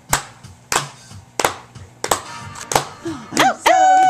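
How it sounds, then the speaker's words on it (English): A few sharp hand claps land at a steady, roughly once-a-second pace, close and loud, while a child's playful vocal sounds and sliding tones creep in toward the end. "Clap your hands"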